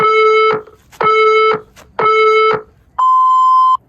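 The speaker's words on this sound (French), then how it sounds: "Pas de musique, juste le minuteur." A workout interval timer sounds three loud, evenly spaced beeps about one second apart, then one longer, higher final tone, all with no voices.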